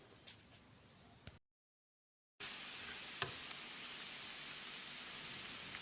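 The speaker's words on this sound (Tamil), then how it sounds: "தக்காளி லேசாக மசிகிற அளவுக்கு வதக்கி விடணும்." Chopped tomatoes and onions frying in a pan for spot idli masala, giving a steady bright sizzle with faint stirring scrapes after a short quiet gap.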